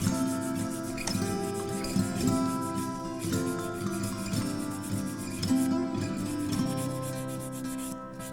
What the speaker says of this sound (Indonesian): Lalu, siapkan kertas amplas nomor 220 dan gosok sampai rata.